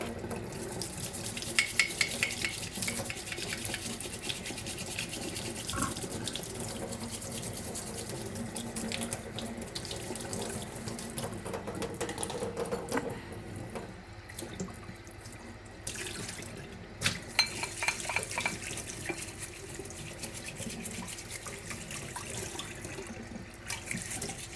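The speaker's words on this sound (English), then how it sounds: "I just have to wash the bowl and the spoon" Kitchen tap water runs steadily at a sink while a bowl and spoon are washed, a constant close rushing stream with occasional clinks and splashes as the flow shifts, no talking.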